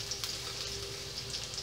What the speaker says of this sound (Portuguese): Vamos deixar dar uma murchadinha nessa cebola, nesse pimentão